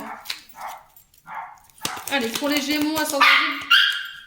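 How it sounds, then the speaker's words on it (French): A dog barks repeatedly and loudly indoors, a run of sharp close yelps and whines that overlaps someone speaking French. "Excusez-moi pour le chien."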